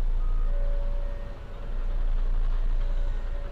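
Trucks hauling earth on a highway duplication construction site, with a steady reversing beep pulsing over a loud, continuous diesel engine rumble nearby, no talking.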